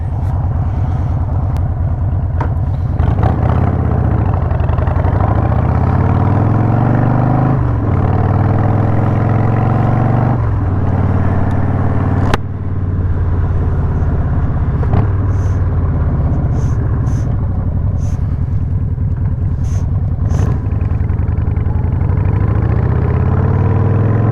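A 2003 Harley-Davidson Sportster, a 100th Anniversary edition, idles with a steady, loud, close engine rumble and lumpy low throb that runs the whole time, with no one talking.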